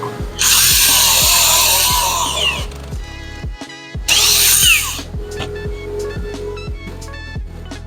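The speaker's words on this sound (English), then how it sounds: "I'm drilling some pocket holes in the underside of the apron on the bottom shelf" A power drill bores pocket holes into the underside of a wooden shelf apron, two loud sustained high whining bursts of a few seconds each, separated by a brief pause and followed by lighter handling clatter.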